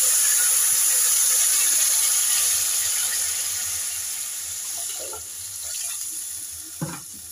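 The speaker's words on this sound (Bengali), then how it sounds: "এবার পরিমাণ মতো জল দিয়ে দেবো আমি।" Water poured into a cooking pot of lentils and rice for khichuri, a steady hissing flow that gradually softens, followed by a few light clinks of utensils near the end.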